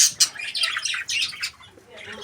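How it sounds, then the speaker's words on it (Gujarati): Pet budgerigars in a cage squawk and chirp in quick, bright bursts, several birds calling over one another at close range with no voices. "બજીઝ."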